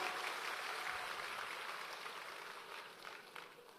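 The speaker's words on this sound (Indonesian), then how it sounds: "Kita beri tepuk tangan untuk Uskup Anton." An audience gives a sustained round of applause for Bishop Anton, steady crowd clapping heard fairly far off and faint, with no voices over it.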